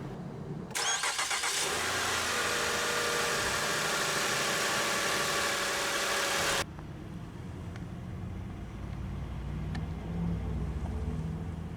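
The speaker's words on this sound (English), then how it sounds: "we'll go ahead and start the engine" A 2010 Lincoln MKZ engine cranks and catches with a loud roar, runs hard for several seconds, then drops abruptly to a low, steady idle.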